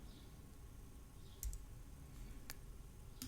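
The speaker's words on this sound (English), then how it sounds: "I will click save." A mouse click lands as a faint, sharp tick on the save button, followed by a couple more quiet clicks against a low background hum.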